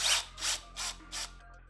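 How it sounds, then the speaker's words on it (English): A power driver sinks a self-tapping screw with a washer into the lock plate of a Harley saddlebag, four short close whirring bursts in quick succession, then a quiet pause. "I'll secure it down with a self-tapping screw and washer."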